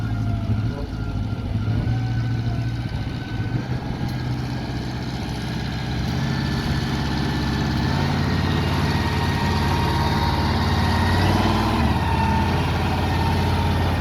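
A tractor engine runs steadily at a tractor pull practice, a loud, close, continuous low rumble with a voice heard faintly over it.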